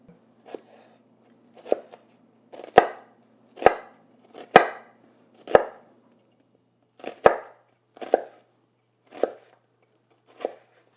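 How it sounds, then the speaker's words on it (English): A kitchen knife slices through an onion on a cutting board in about a dozen separate chops, each a crisp close cut with brief gaps between them. "take your knife and make 1/4 inch slices all the way across the top"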